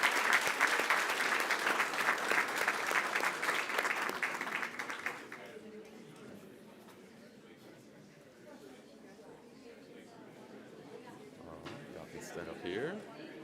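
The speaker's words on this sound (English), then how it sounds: "How about a round of applause for our students from Central Middle School and B." Audience applause for students from Central Middle School at a school board meeting, loud and sustained for about five seconds before fading to quiet room murmur and shuffling.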